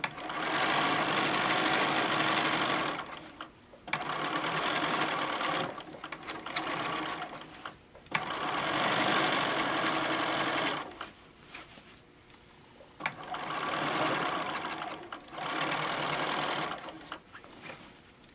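A sewing machine runs top stitching on a tote bag, close and steady, in several bursts of a few seconds each with short pauses between them.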